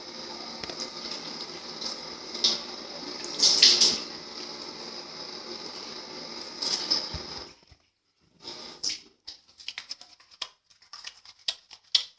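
Tap water runs steadily and faintly during face washing with soap, a soft continuous hiss with splashy bursts, then stops and leaves scattered small splashes and drips.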